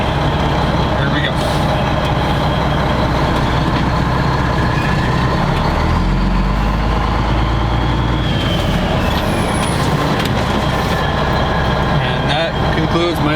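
A CDL-B truck creeps ahead at about five miles an hour for a brake test, its engine rumbling loud and close throughout with a low, steady drone and occasional hiss and clatter.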